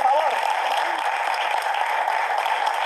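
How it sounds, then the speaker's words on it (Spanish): Studio audience applause on a Galician television show, a steady full burst of clapping running throughout with faint voices underneath. "Un aplauso, por favor."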